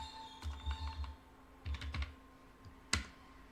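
Typing on a computer keyboard, with a few short bursts of soft, close key taps separated by pauses and ending in one sharper keystroke.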